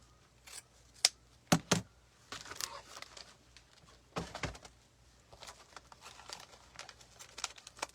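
Scissors snipping through ribbon while a bow is made, a few sharp close cuts mixed with soft crinkling and rustling of the ribbon in a quiet room.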